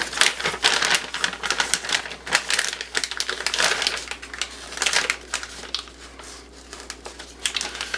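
Plastic sheet being cut for cupcake decorating, heard as a busy run of close crinkly snips and crunches with no voice over it.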